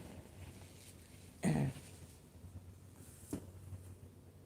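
A single sharp cough stands out against quiet room noise, followed a couple of seconds later by a fainter short throat sound.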